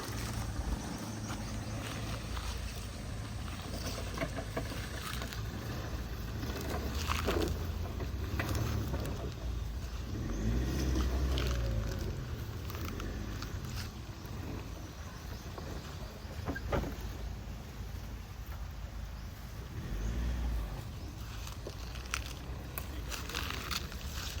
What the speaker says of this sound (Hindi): तो चलिए अब मैं स्कॉर्पियो लेकर आता हूँ।